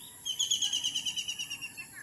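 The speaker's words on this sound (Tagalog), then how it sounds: "Ayan o, yung ibon." A bird calls in a quick run of repeated high chirps, fairly close and clear, about a dozen notes over roughly two seconds.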